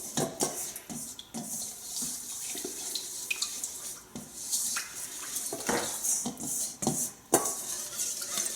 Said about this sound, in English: I will mix this salt and baking soda up so that the salt dissolves.